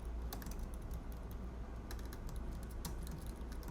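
Rapid, steady typing of code on a computer keyboard, close and fairly quiet, with dense key clicks and a few sharper strikes, no talking.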